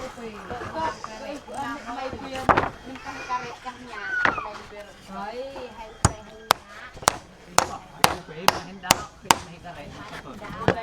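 Someone talks at first, then a hammer drives into corrugated metal roofing sheets with about eight sharp, evenly spaced strikes, loud and close.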